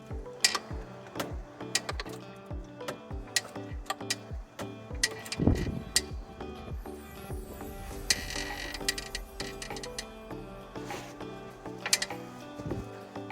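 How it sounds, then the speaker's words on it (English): Floor jack being pumped up under a car to raise the engine and transmission while installing a transmission mount, a steady series of sharp ratcheting clicks and mechanical ticks close by, with a brief creak midway. "Put your jack underneath and jack it up"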